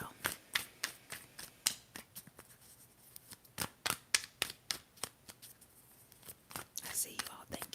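Tarot cards are shuffled close up in a quiet ASMR setting, giving a steady run of crisp riffling and slapping bursts with brief pauses, while soft whispering runs underneath.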